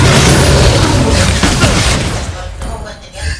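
A loud video game explosion booms and rumbles, then fades into a crackling tail with scattered debris-like pops.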